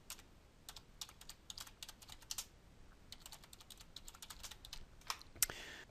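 Rapid clicking of keys on a computer keyboard, fast and uneven bursts of typing, quiet and close, with no talking.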